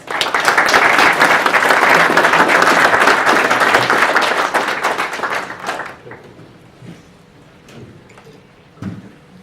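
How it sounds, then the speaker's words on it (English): A community audience at an East Bakersfield event claps loudly and densely for the singers called up to the stage, then the applause trails off into scattered claps and quiet room noise. "Let's give them a round of applause."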